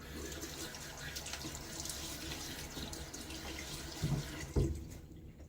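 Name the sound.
running tap water while wetting face for shaving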